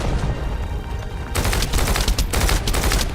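Gunfire in The First Descendant: after a brief quieter lead-in, rapid bursts of automatic shots crackle loudly and continuously with short gaps between volleys.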